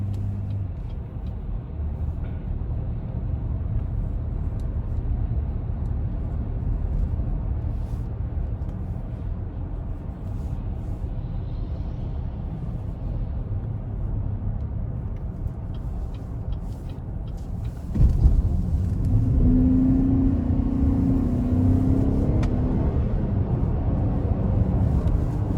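Steady road and engine rumble inside a 2021 Chevrolet Traverse High Country driving in all-wheel drive, a continuous low drone that swells slightly louder partway through, with no talking.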